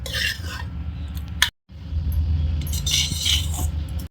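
Cooked rice being stirred and folded into tomato rice in a metal pot, a steady scraping and clinking of a ladle close by, with a brief pause midway before the mixing resumes.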